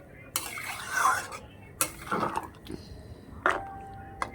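A spoon stirs a shrimp and flat-bean curry in a pot, making several separate scraping strokes against the metal with soft sizzling in the background.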